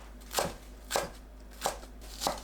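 A knife chops perilla leaves on a cutting board in four crisp, evenly spaced strikes, close and fairly quiet with no talking.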